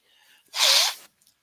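A single loud, close sneeze bursts out after a quiet intake of breath, a sharp blast lasting about half a second before fading to silence.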